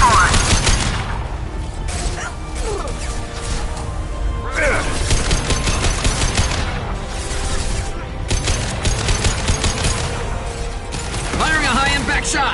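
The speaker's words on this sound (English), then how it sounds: "Firing a high-impact shot." Rapid bursts of automatic gunfire and clattering mechanical shots from a PS4 shooter video game, loud and close, arriving in repeated volleys with short gaps, some game voice lines mixed in.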